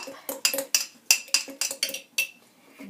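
A utensil clinks against a bowl while maple mustard sherry vinaigrette is stirred, giving about ten quick, bright metallic taps in an uneven rhythm, close and fairly quiet, with no talking.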